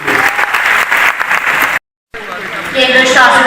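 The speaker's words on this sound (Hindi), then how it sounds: "एक बार जोरदार तालियों से अभिनंदन कीजिए" Loud audience applause at a formal public event, dense and steady clapping that cuts off abruptly for a moment and then resumes just as strongly.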